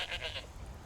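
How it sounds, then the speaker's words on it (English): A goat in the video game Skyrim gives a short, fairly close bleat in three quick pulses, followed by quiet ambience. "Also got a goat."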